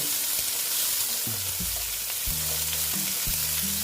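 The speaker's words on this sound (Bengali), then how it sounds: "আস্তে আস্তে পেঁয়াজটা ভেজে নিচ্ছি" Chopped onion frying slowly in a pan, a loud, dense, steady sizzle throughout with occasional low clunks of stirring.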